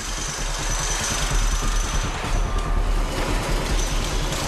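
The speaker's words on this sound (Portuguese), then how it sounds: "a equipe aperta os parafusos" A construction crew tightens the 140 bolts joining a wind turbine tower to its foundation. Loud, continuous rattling hammering of powered impact tools fills the whole stretch, with dense mechanical noise and no talking.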